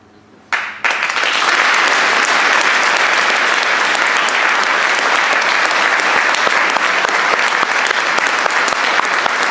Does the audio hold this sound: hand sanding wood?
no